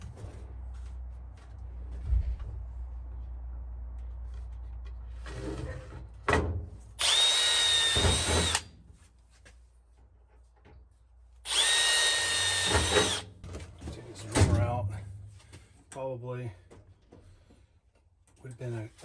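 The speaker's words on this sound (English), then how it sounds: "I get to use my brand new Milwaukee drill to pre-drill this." A brand-new Milwaukee power drill pre-drilling into wood, heard as two loud, close whining bursts of a few seconds each, separated by quieter handling and background noise, with a shorter burst near the end.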